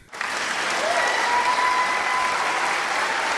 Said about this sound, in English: Clapping, the sound that one makes with their hands in order to appreciate someone.